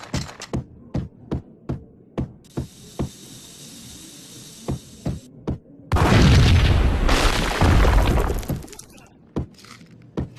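An explosion in the Max Payne video game erupts in a loud, roaring burst with shattering debris that lasts a few seconds. It follows a run of sharp, evenly spaced gunshots over a low hum.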